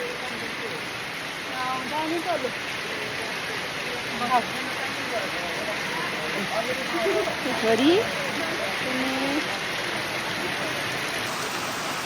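Heavy rain pours down steadily on the way to Pathivara, a loud, even hiss that fills the whole stretch while people talk beneath it.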